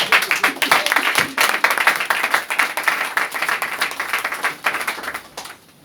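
A church congregation breaks into loud, sustained applause, a dense wash of clapping that holds for several seconds before tapering off near the end.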